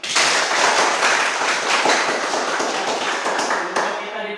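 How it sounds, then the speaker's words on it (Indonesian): A classroom of students applauds together, a dense, loud burst of clapping that carries steadily for several seconds before thinning and stopping abruptly. "sekali lagi beri aplaus untuk kita semua"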